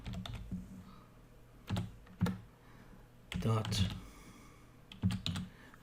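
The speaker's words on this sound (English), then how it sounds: "I'll start typing" Bursts of keyboard typing, clustered keystroke clicks with pauses between groups, close by, while a person talks briefly.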